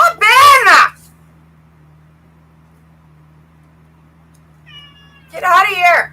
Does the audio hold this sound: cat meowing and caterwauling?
yes